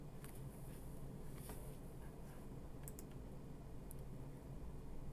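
Faint computer mouse clicks sound in a quiet room while working through a software configuration wizard, a few soft isolated ticks over low background hum.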